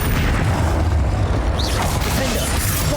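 Spell blasts from Bombarda and Confringo in the Hogwarts Legacy video game make a dense, loud rumble of booms and crashes that runs without a break, with no speech.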